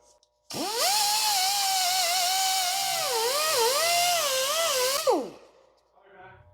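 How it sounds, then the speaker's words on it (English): Wire wheel spinning against semi truck battery connectors, one steady, loud whining run of about four and a half seconds, wavering in pitch under load before winding down. "Take your battery connectors and a wire wheel"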